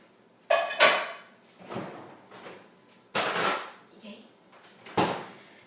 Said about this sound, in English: Close the butter container.